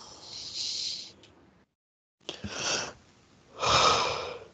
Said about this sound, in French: rien de tel qu'un bon bâillement pour revenir pleinement dans la matière